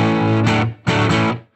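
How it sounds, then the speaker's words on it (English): Electric guitar played through an overdrive pedal for a low-gain, valve-amp-style tone, two loud sustained chords ringing close, the second fading out. "And here's the overdrive."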